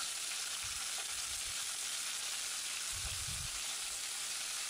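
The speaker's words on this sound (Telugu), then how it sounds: "ఆవాలను వేసుకొని ఆవాలు చిటపటలాడిన తర్వాత కరివేపాకును కూడా వేసుకుని వేపుకోవాలి." Mustard seeds and curry leaves fry in hot oil for mango pulihora, giving a continuous close crackling sizzle with a few soft stirring bumps.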